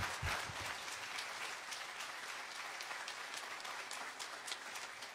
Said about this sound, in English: Let's give them a round of applause to acknowledge